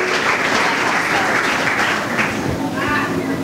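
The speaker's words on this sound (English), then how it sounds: "Let's give these gentlemen and ladies a big round of applause for coming out here this evening" Audience applause fills the room at an evening community gathering on a farm, dense and steady throughout, with some voices mixed into the crowd noise.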